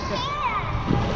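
A voice rings out briefly, then a short, close splash as a child jumps into a swimming pool, with water sloshing afterward.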